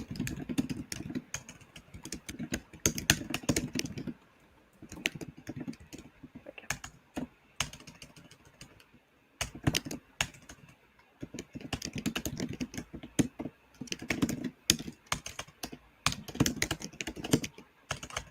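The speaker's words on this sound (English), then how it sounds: "That's some furious typing, isn't it?" Furious typing on a computer keyboard: rapid, close clattering keystrokes in dense bursts separated by short pauses, with a faint low hum underneath.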